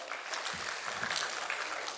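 Audience applause at a lecture marking Gadgebaba's 150th birth anniversary, a dense, even wash of many hands clapping together, steady and moderately distant throughout.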